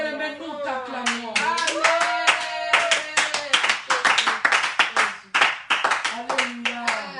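A church congregation claps in a steady, lively rhythm, with voices singing or calling out over the applause throughout.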